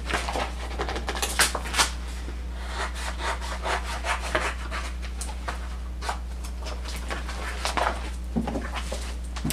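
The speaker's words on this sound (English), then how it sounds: "we'll take a pair of scissors and kind of look and see exactly where your thing ends, and kind of just cut around it" Scissors cut around vinyl lettering in a steady run of soft, close snips and rubbing scrapes over a constant low hum, with no voices.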